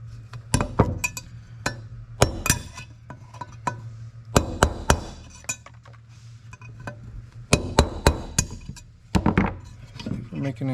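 Hammer tapping on the aluminum inner race of a seal on a Kawasaki Brute Force 750i ATV, a series of light, sharp metallic taps in irregular clusters, close by, with a low steady hum underneath.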